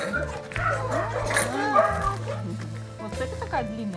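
A dog whimpers and gives short yipping barks close by, mixed in with people talking and a steady low hum throughout.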